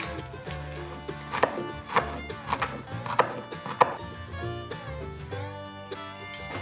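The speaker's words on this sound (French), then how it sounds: "Pour l'oignon, on va le ciseler comme d'habitude" A knife chops an onion on a cutting board, a series of sharp, evenly spaced strikes rising over steady background music, fairly close and distinct.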